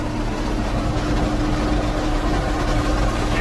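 A 1973 John Deere 4430 farm tractor runs with a steady, heavy diesel drone that holds an even, continuous pitch throughout. It sounds close and fairly loud, with no clear gear change.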